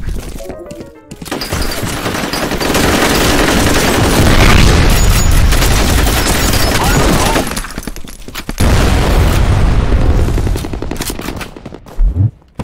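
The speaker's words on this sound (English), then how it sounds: "Grenade out." Loud, dense game combat from F.E.A.R. Combat on the Hotel map: a heavy grenade blast swells into sustained crashing booms and rapid gunfire, dipping briefly before another burst, with little pause throughout.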